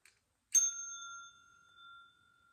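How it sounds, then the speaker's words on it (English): Single clear ring of a small orange glass bell, one bright strike followed by a long, pure sustaining tone that slowly fades, close and alone in quiet surroundings. "And then I picked up an orange bell."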